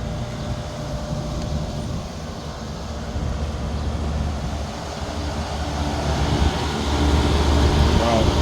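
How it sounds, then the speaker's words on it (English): Both compressors of a Lennox rooftop unit that is not cooling run with a steady loud mechanical hum and broadband roar, building slightly louder toward the end. "Okay, both compressors started."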